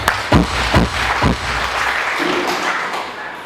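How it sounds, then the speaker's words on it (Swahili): Audience applause at a teacher training college graduation ceremony in Shinyanga, a steady wash of clapping from a crowd with a few louder thumps early on, continuing for several seconds. "Naomba tujipigie makofi wote."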